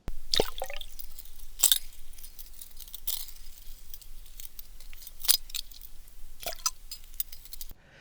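An old titanium spinnerbait with tandem willow leaf and Colorado blades drops into water and bounces. The recording is close and quiet, with a few sharp splashes and ticks spread out over several seconds.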